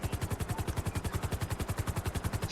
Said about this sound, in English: Another highway patrol helicopter flying the opposite direction.